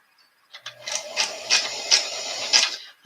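A vintage Sanko sewing machine, the Janome 535 model, running close up in short uneven bursts with a rhythmic mechanical clatter of the needle, starting and stopping as it is tested.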